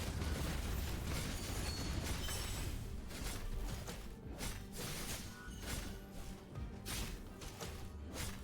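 A full barrage of explosions in the video game Black Beacon, a dense continuous rumble of booms and bursts running steadily throughout, loud and close, with no clear gaps between blasts.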